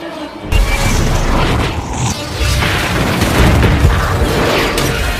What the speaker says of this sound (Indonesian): si jenderal sudah keburu menembakkan rudal